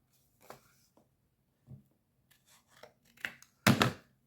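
Scissors cut paper for a small handmade card in a few separate quiet snips and crunches, with the last cut the loudest, and no talk.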